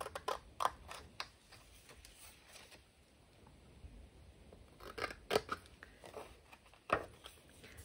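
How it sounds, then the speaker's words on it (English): Scissors snipping through a 12x12 sheet of craft paper for a flat mail set, a few crisp, close cuts in irregular bursts with quiet pauses between, no voices. "but I'll just use the scissors."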